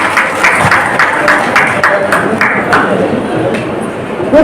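Audience applause at a Kannada cultural gathering on Sharana literature and culture, a steady wash of many hands clapping at close range with sharp individual claps standing out, continuing throughout without any voice over it.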